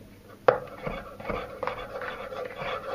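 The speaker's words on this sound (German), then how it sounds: "ich habe hier braune Champignons, die werden jetzt in Streifen geschnitten" Brown button mushrooms being sliced into strips on a board in a home kitchen, a sharp knife tap followed by soft, quiet cutting and shuffling sounds at close range.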